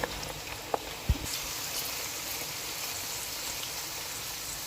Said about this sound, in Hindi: 2 मिनट बस और इसको हमने फ्राई करना है